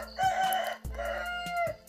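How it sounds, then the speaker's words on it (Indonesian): A rooster crows in the background, two drawn-out calls in a row, fairly clear and prominent against a quiet indoor room. "Aduh, ayam."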